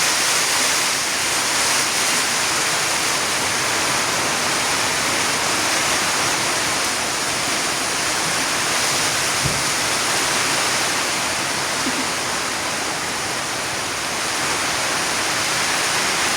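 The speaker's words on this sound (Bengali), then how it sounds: "প্রচুর বৃষ্টি শুরু হয়ে গেছে প্রচুর পরিমাণে" Heavy rain pours down steadily in a rural village during a stormy day, a dense, even rushing roar that fills the scene without pause and without voices.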